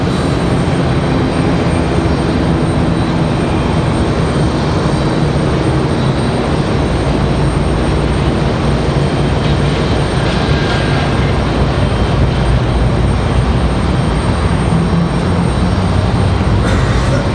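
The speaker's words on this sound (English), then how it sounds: "There's WestJet rolling into the frame." A WestJet airliner taxiing at Raleigh-Durham International Airport gives a loud, steady engine roar that holds unbroken throughout, with no voices over it.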